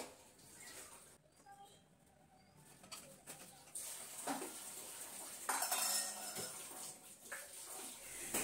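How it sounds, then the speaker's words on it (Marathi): Dishes, pots and utensils being tidied up in a home kitchen, giving intermittent clinks and clatters at moderate distance, with pigeons cooing in the background. "तोपर्यंत मी इकडेचे भांडे वगैरे आवरून घेते"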